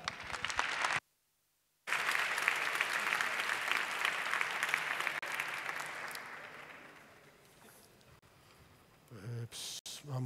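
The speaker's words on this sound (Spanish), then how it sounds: "Un aplauso para él." Audience at a tech conference applauding a quantum computing speaker, a brief cut of silence and then a burst of dense clapping that gradually fades away, followed by faint handling noises near the end.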